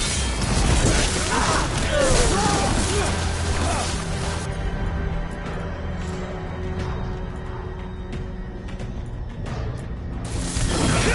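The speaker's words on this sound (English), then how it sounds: "You heard the Kunari. They've got mortars!" Mortar explosions in the video game Dragon Age Veilguard, heavy booming blasts and crashing debris layered with game speech, loud at first, then dropping away to quieter battle sounds before rising again.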